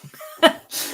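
A single short, sharp sneeze bursts out indoors, followed by a breathy exhale, with faint voice sounds around it.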